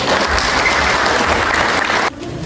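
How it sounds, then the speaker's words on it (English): Loud, steady audience applause for children performing in a summer musical workshop production of Jack & The Beanstalk, a dense continuous wash of clapping that drops away abruptly near the end. "Make sure to give them really big rounds of applause."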